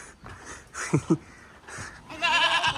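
Goats bleat on a farm in Kerala, with a couple of short, close cries followed by a louder, wavering bleat at the end, against quiet background noise.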